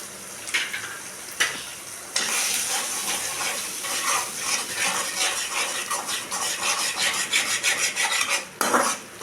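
Eggs seasoned with salt and pepper are stirred and broken up in a hot pan, with rhythmic scraping of a utensil against metal over a bright sizzle and a few sharp clanks, heard up close without talk.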